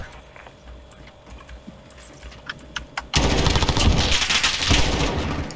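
Loud, sustained automatic gunfire from a Call of Duty: Modern Warfare open beta match, with dense rapid bursts erupting after a few seconds of quieter scattered game sounds and clicks.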